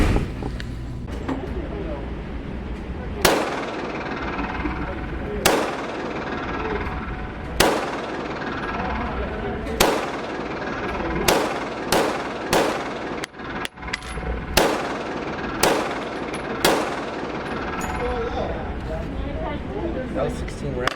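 A Taurus TX22 .22 pistol fires 16 rounds at an outdoor range, sharp cracks coming at irregular intervals of one to two seconds, over steady background noise and some talking.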